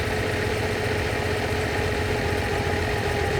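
A Lamborghini 350 GT engine idles during tuning, a steady, even mechanical hum with a low throb that stays constant and close throughout, with no voices.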